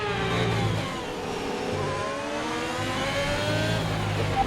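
Alfa Romeo Formula 1 car engine racing in the F1 2021 video game: a loud, continuous high-revving whine that climbs and drops in pitch through gear changes, with no voices.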